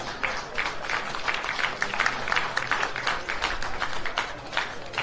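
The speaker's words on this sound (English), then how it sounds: "Let's give them a round of applause." A crowd at a high school baseball game applauds, a steady patter of many hands clapping at moderate distance that continues evenly for about five seconds without voices.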